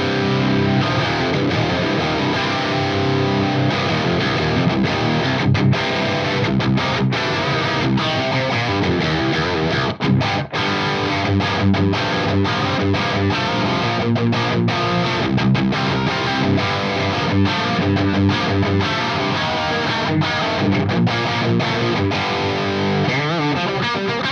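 A heavily distorted electric guitar through an Axe-Fx III Atomica High amp model, a modded Marshall tone with an impulse response, plays a sustained riff with chunky, saturated tone, loud and up front, with no voices.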